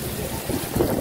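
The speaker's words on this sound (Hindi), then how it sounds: "खतरनाक बारिश हो रही है भाई," A short stretch of heavy Karachi rain rushes steadily, with a low thunder rumble swelling underneath, close and dense with no voices.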